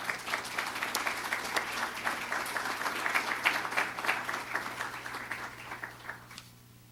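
Audience applause welcomes a writer to the stage at a university literary talk in Lima, a dense, steady clapping that holds for several seconds before thinning and fading out.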